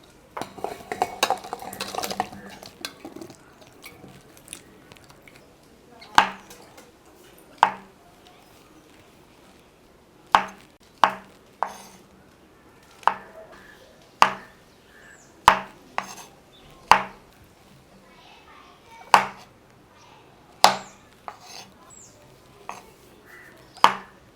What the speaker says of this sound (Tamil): காளானை வந்து ஒரு ரெண்டு தடவை அல்லது மூணு தடவை நல்லா கழுவிட்டு நம்ம கட் பண்ணி எடுத்துக்கலாம்